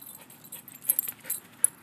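Soft, high-pitched whimpers and little whines from a dog, a few brief squeaky cries over quiet background.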